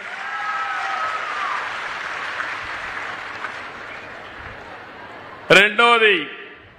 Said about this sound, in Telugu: మంచి ప్రభుత్వం అయితే గట్టిగా చప్పట్లు కూడా చెప్పండి, బాగా చేశారని